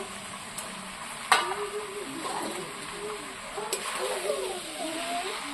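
Chicken and mahua flowers fry in a pan and are stirred, giving a steady sizzle with a few scraping utensil clanks, while someone talks over the cooking.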